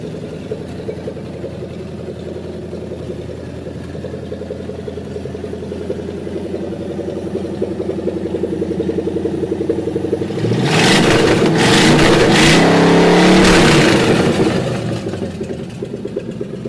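A rebuilt 1955 Ford engine idles with a steady low rumble, then revs hard for a few seconds with a loud rising roar before settling back toward idle.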